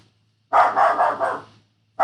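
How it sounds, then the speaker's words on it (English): Several dogs bark in a quick, loud burst of four or five barks nearby, then fall silent before another bark starts. "My dogs are going crazy."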